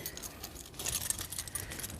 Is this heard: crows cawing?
no